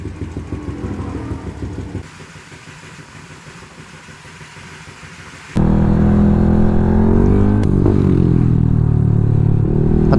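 A Yamaha NMAX V2 220cc scooter on the road: a steady mid-pitched engine drone with road noise, which suddenly grows much louder and busier partway through as the engine revs up.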